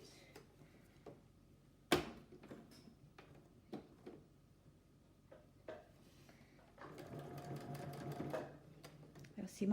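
A sewing machine stitches a seam on a child's tote bag, running in a dense burst near the end after scattered clicks and handling knocks, with people talking throughout.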